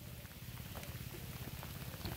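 Steady patter of rain falls outdoors beside a carp-fishing swim, a soft even hiss that runs throughout at a low level with no talk over it.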